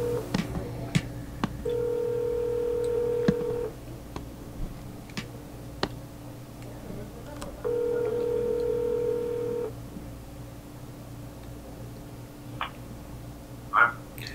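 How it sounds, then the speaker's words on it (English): Outgoing telephone call ringing back through the line, two long ring bursts a few seconds apart over a low steady hum, with a few faint clicks and ticks between them. "Phone's ringing."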